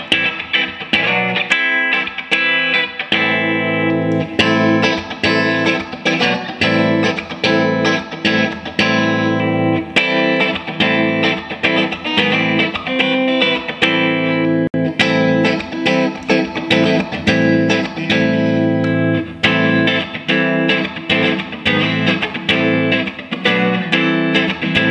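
A Rittenhouse S-57 electric guitar is played clean through a Rivera Clubster amp. It rings with steady strummed chords and picked notes in a regular rhythm, loud and close, with no voice over it.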